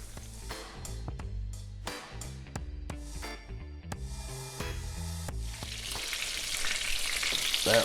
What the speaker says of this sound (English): We're just gonna brown each side.